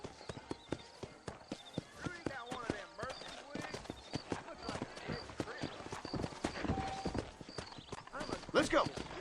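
Galloping horse hooves clip-clop rapidly and steadily through a Red Dead Redemption game scene, running fast under continuous spoken character dialogue.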